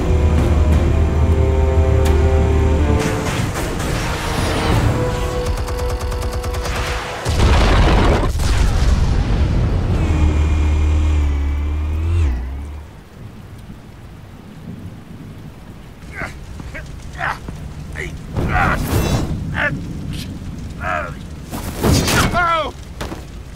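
Loud booming explosive detonations from the Batman: The Telltale Series game roll out over a dense rumbling score, then fade into quieter ambience with a few sharp bursts near the end.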